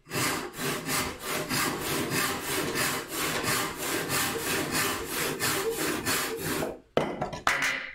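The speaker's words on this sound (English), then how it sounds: "Helps keep the saw more in line with the score that I made." A hand saw cuts wood along a scored line, with steady rhythmic push-pull strokes close up at about two per second, ending in a few quicker scrapes after a brief pause.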